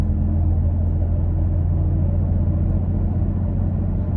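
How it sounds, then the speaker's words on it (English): Steady low rumble of road and engine noise from inside a Toyota Tacoma truck cruising at about 35 mph, an even, continuous drone with no talking. "I don't hear anything other than normal truck noises"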